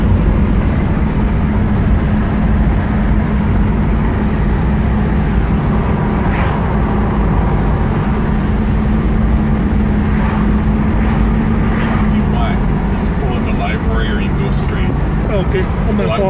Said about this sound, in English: Car seems to ride good.